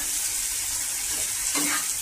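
Poppy seed curry with egg being stirred in a hot pan on low heat, a continuous close sizzle with a few scraping stir strokes near the end, no voices.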